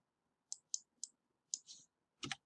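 Computer mouse right-clicking during paper trading, with a crisp series of close, quiet clicks: three evenly spaced single clicks, then a pause, a click with a softer follow-up, and finally a quick double click.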